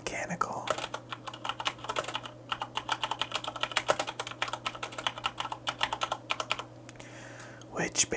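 Typing on a Corsair K70 RGB MK2 mechanical keyboard with Cherry MX Brown switches gives close, crisp, irregular key clacks in quick bursts with short pauses, under a low steady hum.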